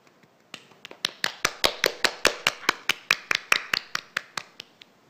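Scattered claps in a small conference audience quickly build into steady rhythmic applause for new executive committee members at a general assembly, fairly close, then tapering off near the end.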